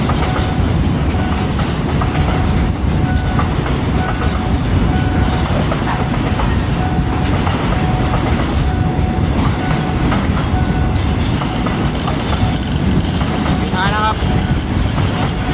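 Thai crude oil express freight train 633 passes a level crossing near Makkasan, with a loud, continuous rumble and wheel clatter, a brief squeal near the end, and a voice talking over it.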